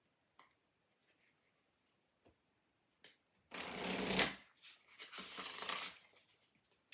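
Oracle cards are shuffled and drawn by hand. A few faint taps and slides come first, then two louder riffling bursts of cards close to the microphone, with no speech.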